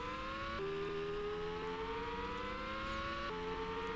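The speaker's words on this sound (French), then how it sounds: "je sens pas de différence entre les voitures au niveau du son" A Formula One car engine in the PlayStation racing game Formula One 2000 holds a steady, buzzy whine, its pitch climbing slowly and dropping abruptly at gear shifts.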